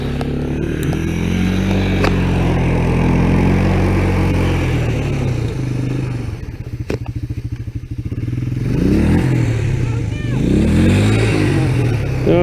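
A Honda XR 100 dirt bike engine revs hard in snow, the motor rising and falling close by, dipping to a rough idle midway before wheel-spinning bursts return; voices talk briefly.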